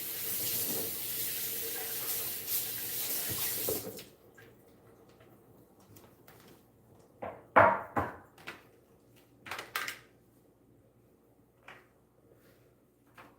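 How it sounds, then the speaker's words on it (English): Tap water runs steadily to rinse a cutting board in a kitchen sink, then stops, followed by scattered knocks and clatters of the board and utensils. "Gonna rinse off the board."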